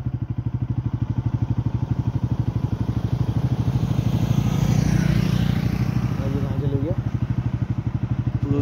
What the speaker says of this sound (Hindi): फिलहाल सामने से बाइक आ रही है।